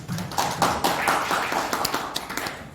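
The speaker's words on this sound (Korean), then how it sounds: "박수로 환영합니다" An audience at a Korean economics seminar session applauds to welcome a law professor presenting on regulatory reform, brisk continuous clapping filling the room.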